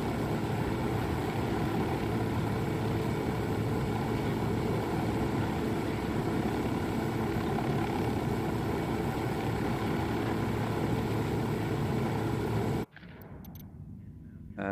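A helicopter in Ghost Recon Wildlands flies over mountainous terrain, its engine and rotors a loud, steady, unbroken drone that cuts out abruptly near the end.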